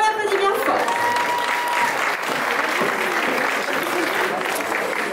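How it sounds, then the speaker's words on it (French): A crowd cheers and claps loudly for a pin-up performer on stage at a 2021 show in Bletterans, France. Dense, sustained applause runs for about five seconds, with a brief voice near the start. "On l'applaudit bien fort."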